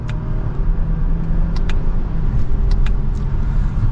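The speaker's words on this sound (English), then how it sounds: "That was just a mild acceleration there, but we definitely have plenty of power." A 2025 Lexus ES350 pulls away gently in second gear, its engine a steady low rumble heard from inside the cabin, continuous and moderate with no sharp revving.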